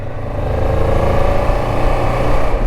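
Motorcycle engine running steadily while riding on a road, a continuous loud mid-pitched drone with slight revving swells and no talk.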